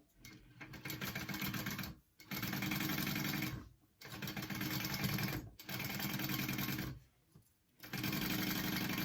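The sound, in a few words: sewing machine top stitching fabric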